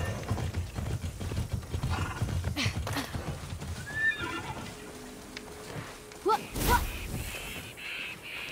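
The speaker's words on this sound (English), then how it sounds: "Hello, horse. By the way, this is my horse." A horse in the open-world game Immortals Fenyx Rising whinnies loudly and close by, a sharp neigh rising over steady hoofbeat clip-clop and ambient outdoor game noise, with faint bird caws in the background.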